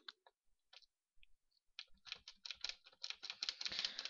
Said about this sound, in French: Désolé si vous entendez mon clavier